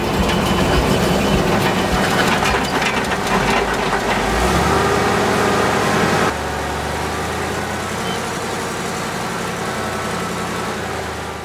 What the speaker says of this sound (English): Because it shakes all the nuts out of the tree, and then some.